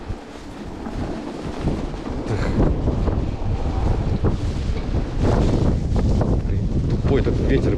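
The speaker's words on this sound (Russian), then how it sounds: "Тупой этот ветер прям бесит." Strong, blustery wind in a snowstorm roars into the microphone during an electric bike ride on a snowy road, loud and continuous, with gusts rising and falling.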